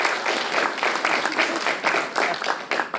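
Indoor audience applause at a local history pub talk welcomes a speaker. Clapping from a modest crowd comes in pulsing waves at moderate loudness for a few seconds.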